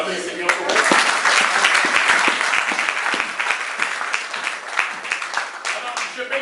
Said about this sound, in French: On va acclamer le Seigneur pour nous.